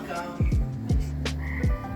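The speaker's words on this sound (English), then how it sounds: "The frogs here sound nuts." Frogs croak at night in a loud, close chorus of repeated deep calls, several overlapping croaks rising and falling over a steady background trill, with no voices.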